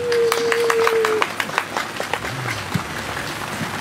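Crowd applause at the opening of a motorcycle rally outdoors, a fairly dense spread of clapping that gradually thins into scattered claps, with a steady tone and a low engine-like sweep passing in the background.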